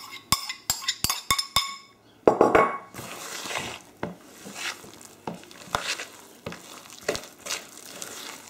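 Grated carrot stirred into a mixture in a bowl: a quick run of sharp utensil taps against the bowl, then soft wet scraping and stirring with occasional light clinks, close and alone.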